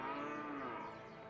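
A single drawn-out cow moo from the video game A Way Out, heard alone at low volume, wavering slightly in pitch as it fades.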